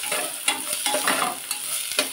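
Thickly chopped onion stir-fried in a pan over cumin, a continuous sizzle punctuated by repeated spatula scrapes and knocks, close and loud, with no talking.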